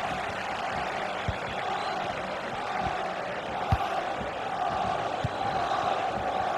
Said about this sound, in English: Well, listen to the crowd.